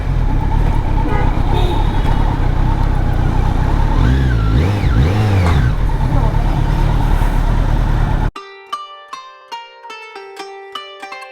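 Road traffic heard while riding a motorbike, a continuous loud engine and wind rumble with a passing horn-like wavering tone midway, then giving way abruptly to music.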